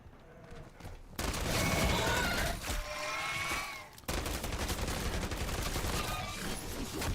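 Rapid automatic gunfire from the SVA weapon in MW3 Zombies, a dense continuous burst with brief pauses between sustained volleys, loud and close throughout.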